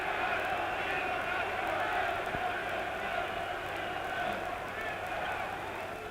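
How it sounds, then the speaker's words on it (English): A huge German crowd at a heavyweight boxing title fight roars in a loud, unbroken wall of cheering that holds steady throughout, with a commentator's voice woven into the din. "getting a tremendous reception from this huge German crowd"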